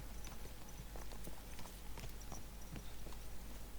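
Horse hooves clip-clop at a steady walking pace in Kingdom Come: Deliverance 2, close and clear over a low ambient hum, with no talking.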